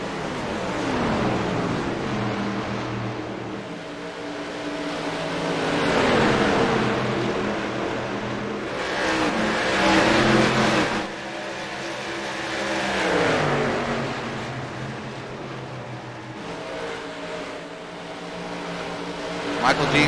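Race cars lap a speedway with a continuous engine roar that swells and fades as cars pass, while a commentator talks over it.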